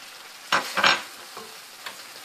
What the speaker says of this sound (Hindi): अब मैं इसको कुछ देर भूनती हूँ